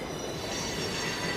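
A train passes near an apartment, producing a continuous broad rumble and rushing noise with faint wheel squeal, steady and moderately distant throughout.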